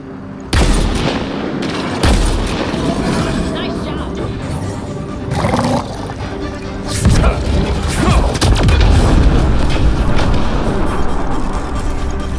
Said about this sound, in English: Cannon coming!